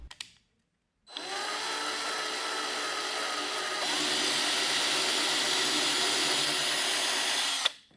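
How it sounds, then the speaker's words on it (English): A power drill whines steadily for several seconds drilling a hole in a vintage guitar, its pitch stepping up partway through before it stops abruptly. "but just go ahead and drill that next hole."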